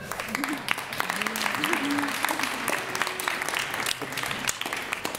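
A theatre audience at a staged show applauds an announced mayor with a thick, sustained wash of clapping, while voices and a few tonal vocal sounds rise faintly underneath.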